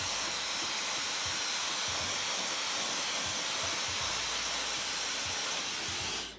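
A hair dryer blows on wet Type 4 natural hair during a wash-and-go stretching step, giving a steady, close, airy roar that holds evenly for about six seconds before cutting off at the end.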